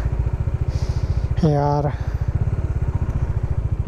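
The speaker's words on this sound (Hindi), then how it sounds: "बट बाइक अभी चल रहा है" Bajaj Dominar 400 motorcycle engine idling with a rapid, steady thumping pulse, close and fairly loud, while a brief spoken word cuts in partway through.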